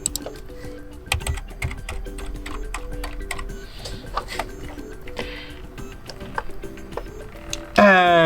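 Keys clatter on a computer keyboard as a new password is entered twice for a Xiaomi AX3600 router's admin settings. The key presses come in quick irregular bursts, fairly close, with a voice speaking faintly in places and a brief louder noise at the end.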